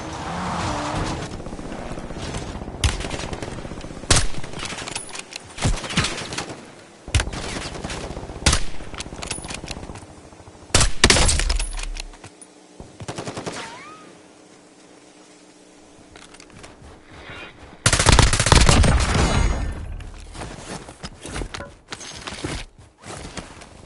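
Warzone video game gunfire: loud bursts of automatic fire and single shots crack close by, broken by short lulls, with a heavy flurry near the end.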